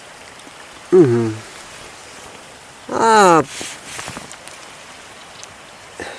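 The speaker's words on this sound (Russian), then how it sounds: "Вон там вода, широченная вода текет." A wide stream flows through a spring forest with a steady, close rushing wash throughout, while a voice briefly murmurs twice over it.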